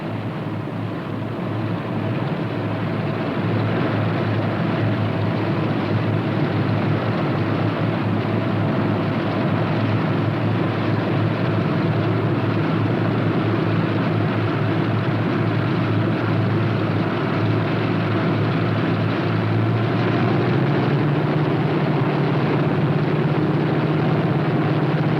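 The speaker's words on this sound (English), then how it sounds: "Okay to taxi to runway 29." Northrop P-61 aircraft taxiing toward the runway, a steady loud rumbling engine drone holding without a break, with a low hum rising slightly near the end.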